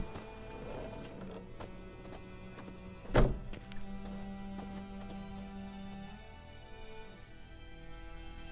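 Horse hooves clip-clop with a neigh in The Witcher 3 video game, a sharp thunk near the middle, then a steady tonal hum and quieter hoof steps, no talking.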